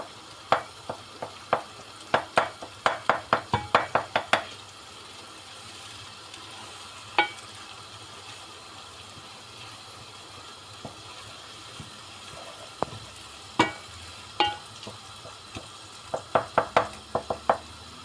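Tomato paste and other ingredients sautéing in a pan for tas kebab, a low steady sizzle broken by bursts of quick spoon taps and scrapes against the pan.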